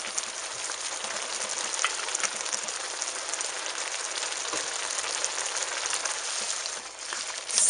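Norwegian casserole sizzling and frying in a wok as it is stirred, a steady close crackling hiss with scattered scraping ticks, no voices.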